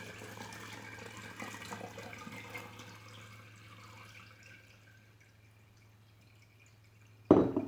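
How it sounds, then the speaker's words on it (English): Water drips and trickles off a lump of freshly churned homemade butter, a soft watery patter that fades over several seconds, followed by a sudden louder splash at the end. "going to try to drip that water off of there"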